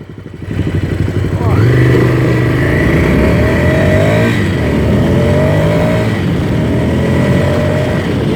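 A Ducati Scrambler Desert Sled motorcycle on stock Pirelli tires accelerates hard on dirt with wheel spin, engine revs climbing and holding loud and close, with a rider's voice talking over it.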